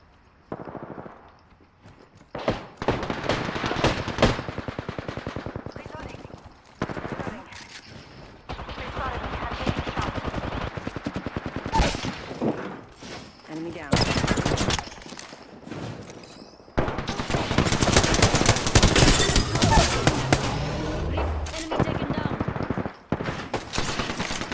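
Rapid automatic gunfire in a shooter video game, bursts of sharp cracking shots in quick strings, some close and loud, separated by brief pauses, with a player talking between volleys.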